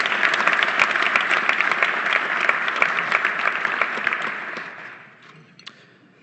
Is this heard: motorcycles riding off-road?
no